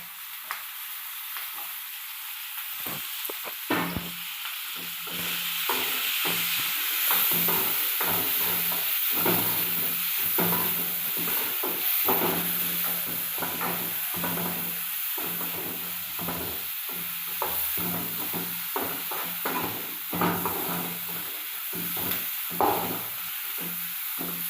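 Chopped tomatoes fry in a hot pan while a spoon scrapes and stirs them, a constant close sizzle broken by frequent rhythmic scraping strokes, with no talking.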